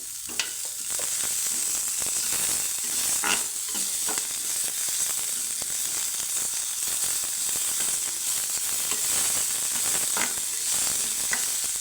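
A teaspoon of ginger garlic paste fries in oil in a pan for a capsicum and potato gravy, giving a steady close hiss with soft scraping stirs and occasional louder crackles.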